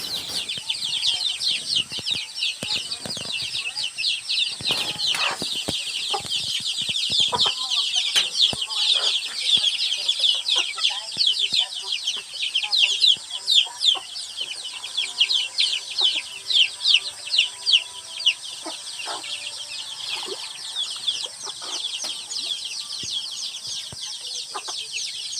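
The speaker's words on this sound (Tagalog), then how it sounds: "Doon sa malayo-layo doon, nag-aantay yung mga malalaki, mga inahin na papakainin sila." A flock of backyard chickens, chicks and mother hens, clucks and peeps continuously on a small farm, a dense busy chatter of overlapping high calls with scattered louder clucks nearby and no talking.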